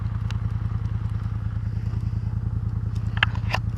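A Big Red vehicle spins out in snow during a snowstorm, its engine a loud, steady, close rumbling drone with a few faint clattering scrapes near the end.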